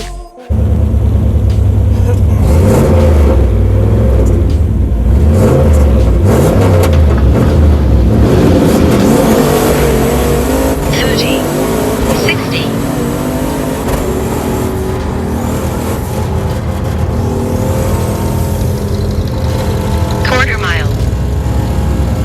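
A turbocharged 408 stroker car built on a junkyard 351 block runs on a drag strip at high boost, with a loud rising engine roar and shifting tones building over several seconds, then a sustained harsh blare.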